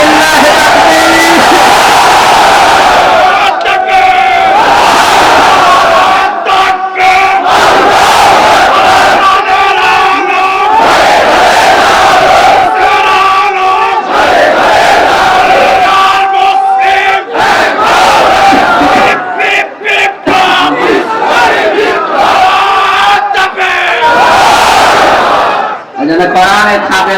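A huge outdoor crowd at an Islamic tafsir gathering in Jhenaidah roars a chant of Allahu Akbar in reply to a takbir call, loud and sustained, with massed voices swelling and breaking in waves throughout.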